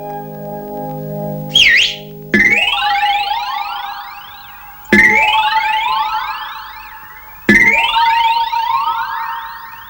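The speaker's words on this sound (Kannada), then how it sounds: "ನನಗ್ ಗೊತ್ತರೋ, ಕೇಳಿಸ್ತಾ ಇದೆ ಸೈರನ್." A siren in a Kannada comedy film scene, loud rising electronic wails repeating about every two and a half seconds after a brief sharp tone, with no talk.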